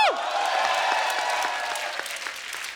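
A studio audience claps loudly and steadily through the whole short burst, dense and close with no voices over it.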